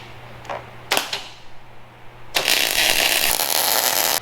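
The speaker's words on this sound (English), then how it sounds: "All right, time for some welding now." Welding motor mount pieces onto an FJ-45 rock crawler frame: a few scattered clanks and taps, then a loud continuous crackling buzz from the welder that runs to the end.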